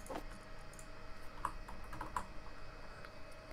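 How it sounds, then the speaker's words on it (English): Rapid clicking of computer keys, a quick, irregular flurry of light taps over a soft background hum, fairly quiet and close with no talk. "that was some crazy typing"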